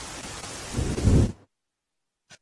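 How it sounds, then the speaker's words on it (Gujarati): Rain and a low thunder rumble over Ahmedabad swell for about a second and then cut off abruptly into silence, followed by one faint brief blip. "હવે વરસાદની ફરીથી શરૂઆત થઈ છે"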